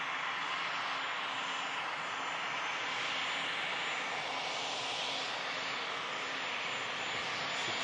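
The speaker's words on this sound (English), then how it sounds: "Should get a brief glimpse of this bizjet as it vacates." Jet engine noise from a business jet leaving the runway by a rapid exit taxiway at an airport, a steady, fairly loud broadband roar that holds evenly throughout with no speech.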